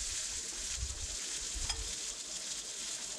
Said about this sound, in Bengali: দেখুন পেঁয়াজ আমার বেশ আস্তে আস্তে করে ভাজছি।